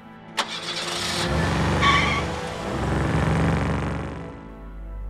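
A cartoon rescue-bot vehicle revs up as its accelerator is pressed: a sharp click, then a loud rising engine roar that swells, dips and surges again, close up with no talking.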